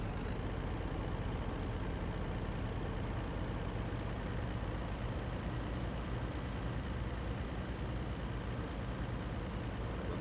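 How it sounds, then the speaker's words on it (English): A working truck on a contract job in Alberta turns around, its heavy engine giving a constant, dense, close rumble with no pauses or voices. "get the truck, get turned around."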